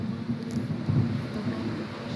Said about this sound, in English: It was legit thundering.